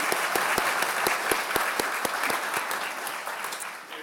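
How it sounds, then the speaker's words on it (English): A graduation audience at a biological sciences commencement claps steadily, with a dense crowd wash and a few sharp, distinct claps standing out. The applause holds even and begins to fade in the final moments. "Now you can clap."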